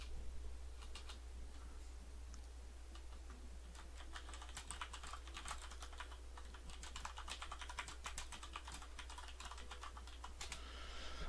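Someone types on a computer keyboard with steady, quick, close key clicks in irregular bursts over a constant low hum, with no voices.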